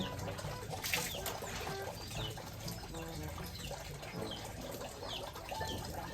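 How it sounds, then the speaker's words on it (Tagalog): Water splashes and trickles steadily while a second-hand motorcycle is washed outdoors, with faint birdsong in the background and no talking. "Ay tubig lang talaga ang panlinis."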